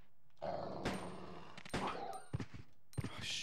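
A dog growls and snarls amid combat in the video game Resident Evil Code Veronica X, with rough bursts mixed with sharp hits or gunfire over a steady game background.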